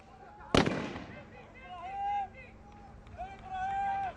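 A single sharp sniper gunshot cracks out at a SWAT challenge, distant and echoing as it fades, followed by a commentator talking over the scene.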